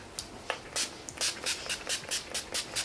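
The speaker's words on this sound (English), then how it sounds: "It's a makeup setting spray." Short hissing bursts of makeup setting spray pumped from a bottle during a makeup application, about a dozen quick, close sprays in an uneven rhythm, fairly quiet and without talk.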